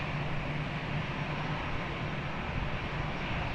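A passenger airliner takes off from runway 20 at Lisbon Airport, its engines a steady, broad roar heard from a distance with no break or change in level.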